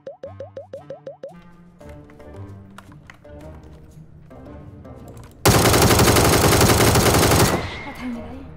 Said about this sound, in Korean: 위에서 총소리 한번 났고